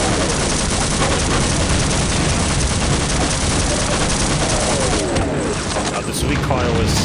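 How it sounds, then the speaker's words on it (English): Intense firefight in the game Half-Life: MMod, dense continuous automatic gunfire and explosions packed together at high volume, with a person talking over the shooting. "Here we have a very intensive firefight, actually."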